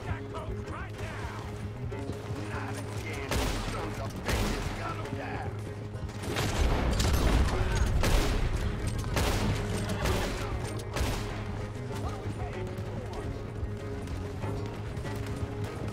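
Gunfire in Red Dead Redemption 2 on an Xbox One S: scattered shots and a dense burst of rapid firing amid game noise, with someone talking at times.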